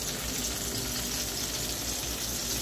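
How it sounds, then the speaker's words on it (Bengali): Potato and pointed gourd frying in a pan, a steady dense sizzle that holds evenly throughout at moderate loudness, close by and without speech. "আমি এখন আলু পটলটা ভেজে নিচ্ছি"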